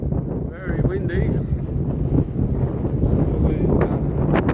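Strong wind buffets the microphone at a beach resort with seaplanes nearby, a loud, continuous low rumble with gusty swells, heard close and steady throughout.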